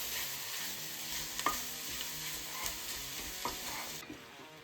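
Italian sausage browning in a pot for tortellini soup, a steady quiet sizzle with a few spoon scrapes as the meat is broken up, no talking.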